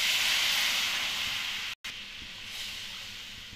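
Water poured into a hot pan for rava kesari, a semolina halwa, sends up a steady, close hiss of sizzling steam that cuts out for a moment and then carries on.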